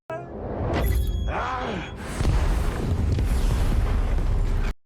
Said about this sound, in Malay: Letupan memusnahkan lorong dan tingkap serta asap menyelubungi segala-galanya.